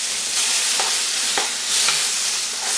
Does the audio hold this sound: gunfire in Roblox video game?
no